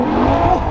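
A 1,000-horsepower C8 Corvette drag car launches with tire shake, a loud, close, continuous engine roar with rough, wavering drive and squealing tires.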